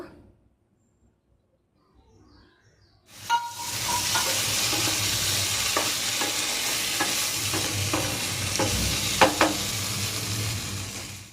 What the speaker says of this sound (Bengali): এবার এটাকে ভালোভাবে প্রায় দশ মিনিটের মতো মশলার মধ্যে ভেজে নেব